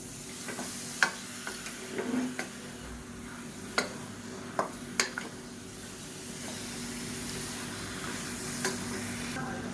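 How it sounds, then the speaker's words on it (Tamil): Village-style chicken pieces sizzle as they are stirred with masala in a pan over medium heat, with a steady frying hiss, a few sharp spatula scrapes and clicks, heard close. "இப்போ இதை இந்த மசாலாவோட பரட்டி விட்டுருக்கலாம் நல்லா அடுத்து வந்து நல்லா மீடியத்தில் வச்சுக்கலாம்"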